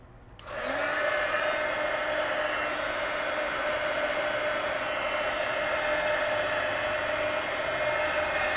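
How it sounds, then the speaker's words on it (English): A heat gun switches on and blows a steady, loud, close whooshing roar of hot air over a wet paper collage, running without a break and with no talking. "So heat gun."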